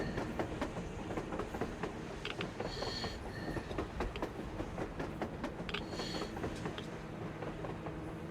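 A train rumbles along steadily with rhythmic clickety-clack of wheels on track in the post-apocalyptic shooter game Metro Exodus, loud and continuous throughout with no talk.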